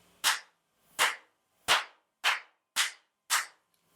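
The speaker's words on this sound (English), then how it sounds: "a nice clap" Six crisp hand claps ring out alone at an even pace, each sharp and close, with quiet gaps between them during a yoga and sound healing session.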